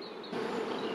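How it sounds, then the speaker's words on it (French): Honey bees in a hive hum with a dense, steady buzz, close and soft, lasting under a second. "Voilà, ici les abeilles."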